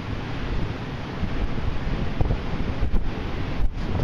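Strong wind buffets the microphone on a stormy north Antrim coastline with white limestone and chalk rocks, while surf roars in a dense, continuous wash that swells with gusts.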